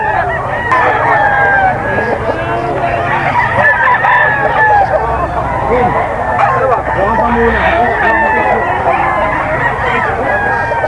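A rooster crows amid a busy yard of gamecocks at a breeder sale, its call rising over a constant din of other birds and people talking nearby.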